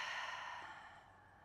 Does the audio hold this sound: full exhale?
yes